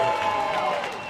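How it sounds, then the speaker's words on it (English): Cheering and clapping from traders on the stock exchange floor during a company's public listing, a brief, busy burst of crowd noise with voices mixed in. "That was your folks cheering down here"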